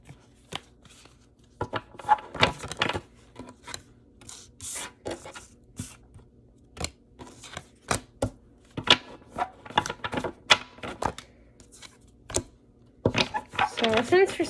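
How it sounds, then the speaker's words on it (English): A deck of tarot cards that is stiff to shuffle is worked through by hand in quick, uneven bursts of rubbing and flicking, close and fairly loud, with short pauses between the runs. "let's get right into it with shuffling the tarot"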